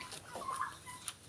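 Heritage chickens clucking softly on a farm, a few short faint calls over quiet background.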